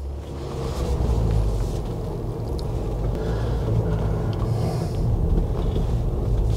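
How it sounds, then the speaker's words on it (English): A Ford Bronco with a 7-speed manual transmission creeps slowly through snow, its low engine rumble steady and continuous, heard close from inside the cabin with no talk. "So I'm just gonna press the gas a little bit"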